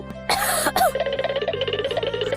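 A person with a cold coughs twice in quick harsh bursts, close and loud, followed by a steady tonal background melody.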